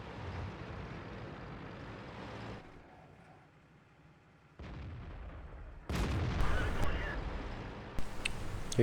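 A tank cannon fires in a video game with loud booming blasts. Heavy rumbling engine or vehicle noise runs before and after, with a quieter stretch in the middle and a strong burst near the end.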